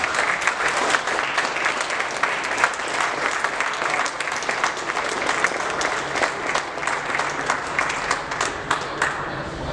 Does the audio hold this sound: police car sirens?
no